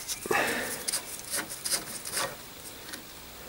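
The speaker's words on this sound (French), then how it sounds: "Il va falloir que je commence par dévisser le sabot de freinage, ici." Quiet scraping and rubbing strokes from a tool working the brake shoe screw on a 1954 Panhard Junior's lower suspension arm, a few short bursts close by with no talk.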